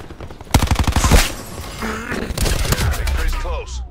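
Video game gunfire crackles in rapid bursts, a loud dense volley early on followed by scattered shots, with voices talking over the action.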